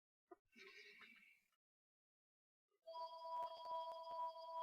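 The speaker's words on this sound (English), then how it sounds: "One phone's still ringing" A telephone rings faintly in an indoor room: a short chirping burst, a pause, then a sustained electronic ringing tone with steady pitched layers.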